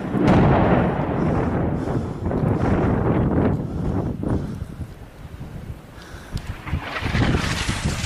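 Artillery shelling pounds the city of Rastan in Syria's Homs province, heavy rumbling booms and blasts rolling continuously through the clip amid wind buffeting the microphone, loud and sustained with no talk.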